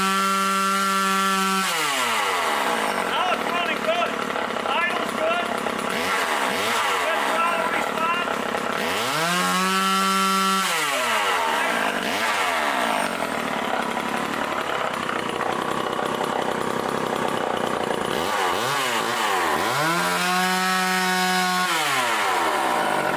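A self-sharpening chainsaw cutting wood, engine revving up in loud rising and falling bursts with idle gaps between cuts, close by, with talk underneath.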